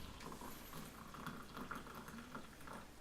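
Brewed siphon pot coffee trickles quietly into a cup, a faint, soft gurgling pour close by with small bubbling patter throughout.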